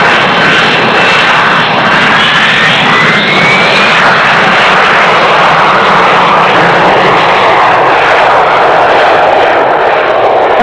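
A fast jet airplane capable of about 1,000 miles an hour roars overhead, a loud, steady broadband rush with a rising whine, sustained throughout with no talk.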